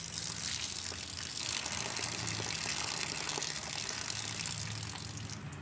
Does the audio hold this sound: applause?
no